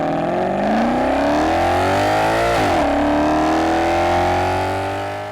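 A Mercedes-AMG GT S engine revs loudly and close, its pitch climbing steadily, dipping briefly midway as if shifting, then climbing again before easing off slightly at the end, with no voices.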